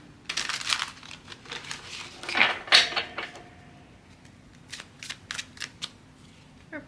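Tarot cards are shuffled in quick papery bursts, with a denser riffle near the start followed by scattered short flicks and taps, close and fairly quiet with no talking.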